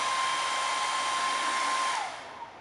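A heat gun blowing on adhesive behind a car emblem gives a loud, steady whooshing hiss with a thin whine, then winds down and quiets over the final half second.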